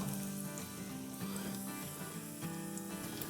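A vegetable mixture for Punjabi chicken salan sautés in a pan with a steady, soft sizzle and occasional stirring scrapes, heard alone with no talk.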